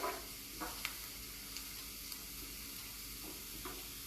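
Steady sizzling of spices frying in hot oil, with a few faint clicks and taps of a utensil against the pan.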